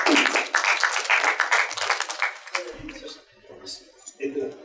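An audience applauds as a speaker is welcomed onstage at a Punjabi literary gathering in Pakistan: dense, close clapping for about two and a half seconds, then fading to scattered claps and murmuring voices.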